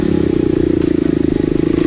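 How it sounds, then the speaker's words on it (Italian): A TM 300 four-stroke enduro motorcycle rides through sandy woodland during an enduro race, its engine thumping at low revs with a fast, steady pulsing beat, near and loud. "Qui non mi serve l'allungo del motore TM 300 quattro tempi, ma i suoi bei bassi."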